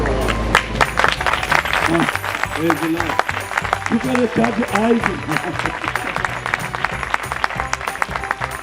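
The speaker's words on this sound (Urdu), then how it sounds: "تالی بجانی ہے تو چج نہ بجانی ہے" Church congregation clapping during a Christmas sermon, steady crowd applause running under a man's speech, moderately loud and continuous throughout.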